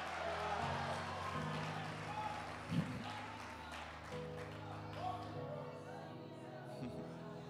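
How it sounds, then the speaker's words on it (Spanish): A church congregation applauding during a service, scattered clapping and a few cheers mixed with a droning sustained tone and voices, fairly faint overall with a brief louder burst midway. "Dale un aplauso a Dios."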